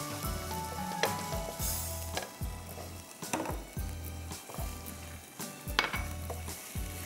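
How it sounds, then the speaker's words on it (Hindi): Chopped chicken breast fries in a pan, making a steady low sizzle while a utensil scrapes and stirs in regular strokes, without speech. "थोड़ा सा हमने इसको फ्राई किया, फ्राई करने के बाद"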